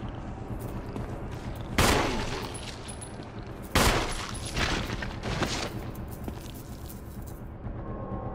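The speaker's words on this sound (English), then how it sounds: "I guess I'll shoot." Gunfire in the video game Resident Evil 4: two loud, sharp shots about two seconds apart, followed by a few softer impacts over a steady game ambience.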